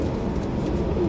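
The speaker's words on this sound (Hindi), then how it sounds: "लो हाँ जनाब, चीना टैडी कबूतर माशाल्लाह जी" A Chinese teddy pigeon coos in a soft, low, throaty purr that carries on without a break for a moment. Nearby rustling sits under it, and no one speaks.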